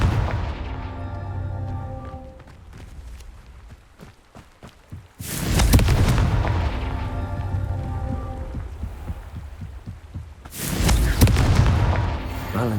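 Two heavy booming fire-spell blasts from Hogwarts Legacy erupt several seconds apart, each with a rumbling, crackling tail like debris and flames, loud and close over game ambience.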